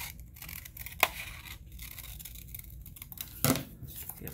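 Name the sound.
cutting out a holster pattern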